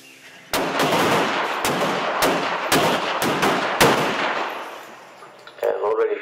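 Handgun shots ring out in sharp, evenly spaced reports, about eight in quick succession, on an LAPD qualification course at a barricade, followed by a brief voice.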